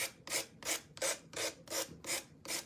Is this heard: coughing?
no